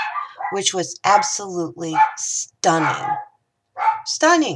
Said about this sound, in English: Sorry about the dog in the background.